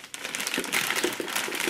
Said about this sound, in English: I'm just gonna use a plastic bag.